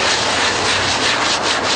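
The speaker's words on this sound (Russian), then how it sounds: "хорошо пройтись шкуркой" Sandpaper scrubbed hard over wooden ramp frames being built for parkour, a dense, continuous, close rasping with steady back-and-forth strokes and no talk.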